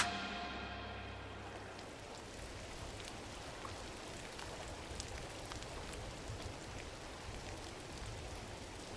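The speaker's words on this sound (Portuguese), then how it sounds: "e com isso vem a chuva" Soft rain falling in the video game Gris, a faint, even patter of drops with light ticks scattered throughout and no voices.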